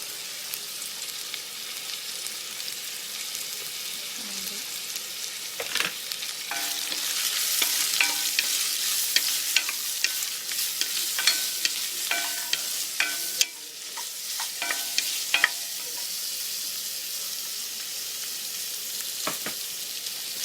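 Cinnamon, cloves and fennel seeds fry in hot oil in a pan, a steady bright sizzle broken by several clinking stirs and scrapes of a utensil against the pan.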